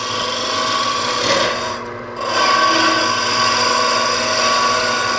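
A wood lathe spins a tulip-shaped wood vessel while a captured boring bar with an angled carbide cutter slices the fibres into shavings; a loud, steady scraping hiss with a hum, briefly easing and dropping out before resuming.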